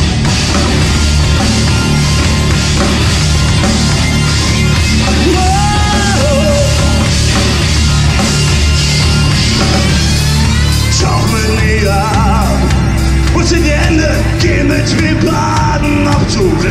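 A crowd at a live concert in the K17 club in Berlin screams and yells loudly and continuously over pounding band music, the din staying dense from start to finish.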